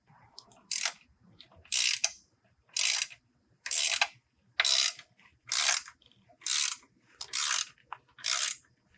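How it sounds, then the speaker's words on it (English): A ratchet wrench tightens steering rack stabilizer bolts on a Polaris RZR Turbo S, clicking in nine evenly spaced, close bursts of rapid pawl ratcheting separated by short quiet pauses. "I never really like to do a final torque as much as I can with my ratchet wrench."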